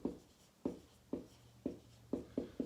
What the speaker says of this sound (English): Let me write that down again.